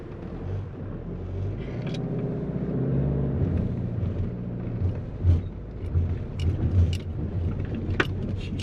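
A car's wheels spinning as it climbs a slope at a campsite, a steady low engine rumble and tyre drone with a couple of brief rattles, nobody speaking.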